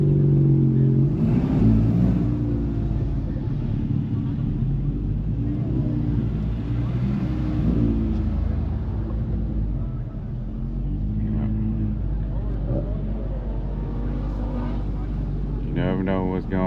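A Honda car's engine rumbles loudly and revs at a car meet, with a deep sustained roar throughout and a few brief swells in pitch.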